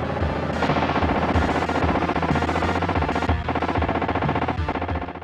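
Rapid gunfire from T2: The Arcade Game on Super Nintendo, a dense continuous rattle of shots over loud game music and effects, sustained for several seconds without a pause.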